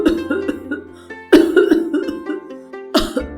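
An older woman, a mother-in-law, coughs hard in a hall in a Hindi story. There are three harsh, strained coughing fits with rasping breaths and throat sounds between them.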